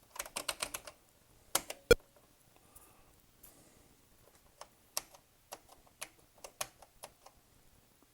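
Key presses on the keyboard of a Thomson TO8D computer with partly failing keys, a quiet nearby clatter of a quick burst of clicks followed by scattered single taps and short pairs, with no talk.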